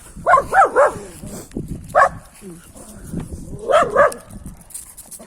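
A dog barks in short bursts, a quick cluster, a single bark, then another pair, fairly close and loud, with people talking around and between the barks.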